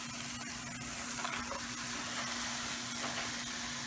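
Rabbit meat sizzles and fries steadily in a non-stick pan, a continuous close crackle with a faint background hum and no talking.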